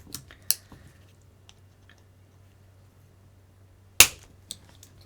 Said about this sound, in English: they do seem to snap on pretty easy